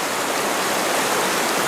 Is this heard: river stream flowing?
yes